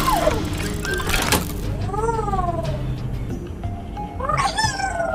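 A cat meows in a video game, with a few drawn-out cries spread across the clip over a busy, steady game soundscape. Nobody speaks.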